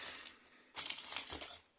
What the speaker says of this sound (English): I just poured out the stuff of this little plastic bag on the table